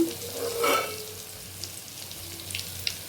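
Ginger garlic paste frying in oil for a prawn pickle, a soft steady sizzle with a brief louder stir near the start and faint scraping afterward, close by and without speech.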